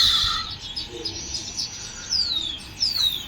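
Birds call among coconut trees with loud, close chirps and descending whistled notes that repeat over a soft outdoor background, without talking.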